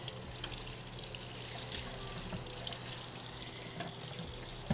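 Warm tap water runs steadily over food being washed in a kitchen sink, a continuous close splashing stream with no talking.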